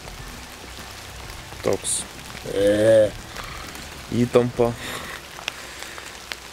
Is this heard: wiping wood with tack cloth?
no